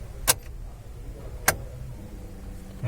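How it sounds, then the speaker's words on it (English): Switching on the ignition of a Maruti Suzuki S-Presso VXI gives two crisp clicks about a second apart inside the quiet cabin. "So let's put the ignition on."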